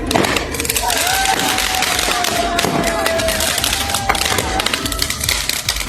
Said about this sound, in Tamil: சாலைகளில் பைக்குகளில் சென்ற இளைஞர்கள் சிலர் ஆபத்தான முறையில் பட்டாசுகளை வெடித்தனர்